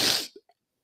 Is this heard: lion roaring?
no